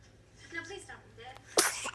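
A single sharp sneeze bursts out near the end, brief and loud, after quiet background talk from people in a home setting.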